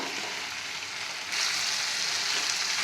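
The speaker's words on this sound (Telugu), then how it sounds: "ఇది పచ్చివాసన పోయే వరకు మనం ఫ్రై చేసుకోవాలి." Ginger garlic paste frying in oil for street-style pav bhaji, a steady soft sizzle that grows slightly louder and brighter partway through, close and continuous with no talking.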